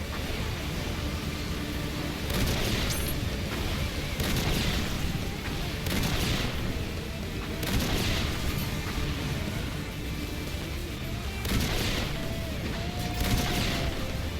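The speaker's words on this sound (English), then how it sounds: "This light mortar's pretty good" A light mortar in a video game weapon test fires again and again, each shot a dull thump with a hissing launch. About six shots come at an uneven pace over a steady background rumble.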